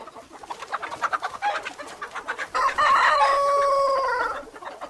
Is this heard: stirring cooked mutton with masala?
no